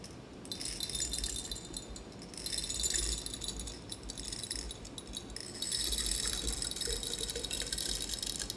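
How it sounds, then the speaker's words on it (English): Large copper spheres are poured into water in two bursts, a bright clattering rattle and splash that pauses briefly in the middle, with no talking over it. "let's go ahead and pour our large copper spheres in"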